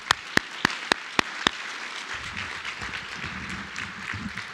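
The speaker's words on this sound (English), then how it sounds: "one more round of applause for them" A round of applause for school madrigal singers at a senior awards ceremony, opening with a few sharp separate claps before settling into a soft, steady patter of clapping.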